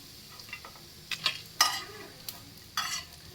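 Sliced bitter gourd fries crisp in hot oil, with a steady sizzle broken by a few sharp stirring scrapes and clinks of a utensil in the pan, close up.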